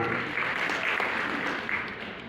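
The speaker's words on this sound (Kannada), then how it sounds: "ನೀವು ಚಪ್ಪಾಳೆ ಹೊಡಿಬೇಕಂದ್ರೆ ಪೂರ್ಣ ಹೊಡಿಬೇಕು" An audience applauds a talk on teachers and education, with a steady, half-hearted wash of clapping that holds at an even level for a couple of seconds without a clear rise or fall.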